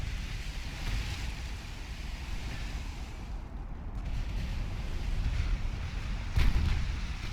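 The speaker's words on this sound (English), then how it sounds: "A number of shells going everywhere." Naval artillery shellfire in Ultimate Admiral Dreadnoughts, a dense, continuous rumble of distant guns and wind-like wash, with one heavier boom near the end, no voices.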